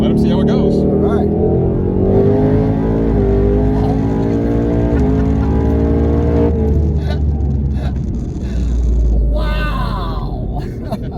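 A twin-turbo Ford Mustang GT engine rises and falls in loud rumbling pulls during a ride, with a rising whine, then a sharp drop, then another surge, and voices are partly heard over it.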